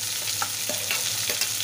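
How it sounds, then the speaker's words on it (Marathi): Sliced onion and curry leaves sauté in a hot pan, giving a steady close sizzle with a few soft stirring strokes over a brief moment. "कांदा जरा परतून घ्यायचा."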